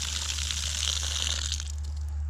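Outdoor water spigot at a campground sputtering as it lets out an air bubble after sitting unused, a steady rushing, gurgling hiss of water and air that runs throughout, close and fairly loud.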